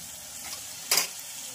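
Onion and tomato fry in a pan for toor dal, a soft sizzle broken by one brief scrape of stirring, quiet and close, with nobody speaking.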